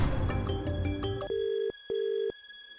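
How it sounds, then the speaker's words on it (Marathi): A mobile phone ringtone plays loudly and close: a quick run of changing electronic tones, then two long steady beeps with short gaps between them, with no voices over it. "इथे तुझ्या जानचा फोन वाजतोय"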